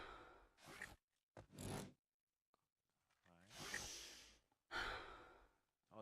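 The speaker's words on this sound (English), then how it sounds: "It just seems like someone's just sighing into my ear." Breathing and sighs picked up close in a commentator's headset microphone during an esports match broadcast, arriving in several loud, breathy bursts separated by short silences.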